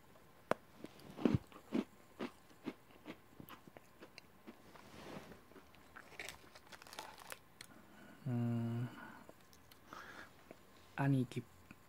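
Someone bites and chews a crunchy Okinawan Japanese snack, close crackling crunches and wrapper crinkles in irregular bursts, with quiet speech in between.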